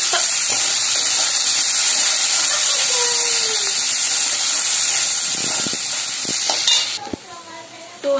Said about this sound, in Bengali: আর এই যে গাজর গুলো কেটে গাজরগুলো দিয়ে দিলাম, একটু ভেজে নেবো গাজরগুলো